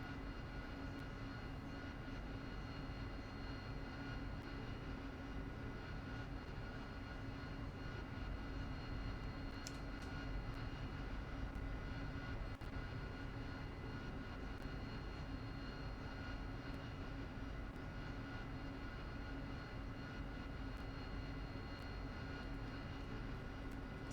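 AV-8B Harrier jet engine in DCS World rumbling steadily and evenly while taxiing, a constant, moderately faint drone throughout.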